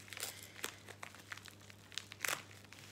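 Plastic packaging of a diamond painting kit being unwrapped by hand, with soft crinkles and a few sharper crackles in irregular bursts, close and fairly quiet, with no talking.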